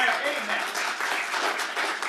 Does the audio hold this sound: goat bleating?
no